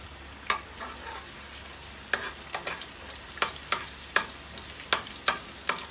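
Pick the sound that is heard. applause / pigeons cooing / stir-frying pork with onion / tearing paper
stir-frying pork with onion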